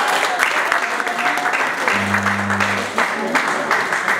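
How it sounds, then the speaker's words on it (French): Applause for a bride and groom at a Congolese church wedding ceremony in Argenteuil, a steady wash of many hands clapping, with a voice and a brief tone sounding underneath. "il faut vous applaudir."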